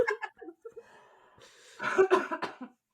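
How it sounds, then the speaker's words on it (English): A short burst of coughing, several harsh hacks in quick succession following some breathy throat sounds, close and fairly loud. "Yeah, I'm coughing."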